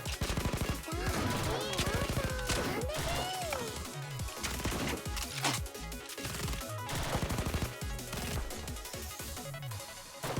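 Rapid game gunfire in Blue Archive, dense bursts of automatic shots and crashes layered with music and character voices, continuous and loud throughout.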